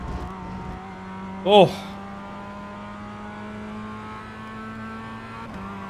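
Race cars on cold tyres in the racing game iRacing, a steady engine drone running throughout with a short, sharp squeal-like burst near the start, while a voice speaks briefly.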